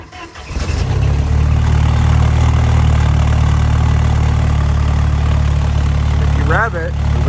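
A Jeep Wrangler YJ with the 2.5 engine runs at a steady, loud idle after catching, its deep hum holding even throughout, with a brief voice near the end.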